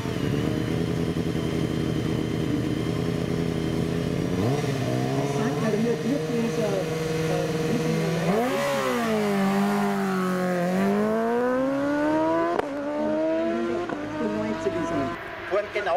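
A BMW S1000 RR superstock motorcycle at the 2019 Julbach hill climb race screams loud and close, its engine pitch climbing and dropping through quick gear changes as it accelerates hard.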